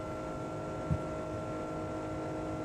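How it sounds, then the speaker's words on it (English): Steady, droning jet engine hum of a JARDesign A330 airliner in a flight simulator game, an even tonal whine with a low rumble underneath, constant throughout with one small bump. "Those engines just seem way too loud."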